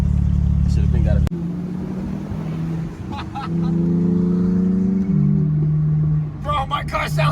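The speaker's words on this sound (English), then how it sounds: "my car sounds so good" A BMW 128 car engine idles and revs in a few long, rising and falling pulls, loud and close, with a short burst of talking near the end.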